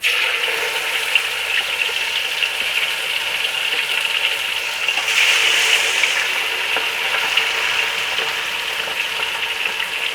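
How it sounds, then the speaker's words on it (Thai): Marinated sun-dried catfish fries in hot oil over medium heat, giving a loud, steady, crackling sizzle that swells briefly midway and carries on alone without talk. "เพื่อนๆเรามาดูการทอด ปลาแดดเดียวนะคะ"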